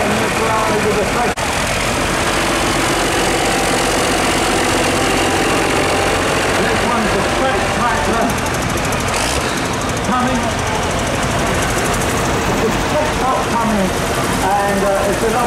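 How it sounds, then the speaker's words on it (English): A tractor engine runs continuously in the arena at an agricultural autumn show, a loud, steady mechanical rattle and knock that holds throughout, with speech over it. "And it's a lovely engine"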